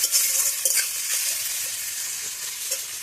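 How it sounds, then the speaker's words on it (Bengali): Chopped potatoes and green chili fry in hot oil, a dense close sizzle with soft stirring scrapes scattered through it, steady throughout and without talk. "তো সেই আলুগুলো দিয়ে একটু ভেজে নেবো।"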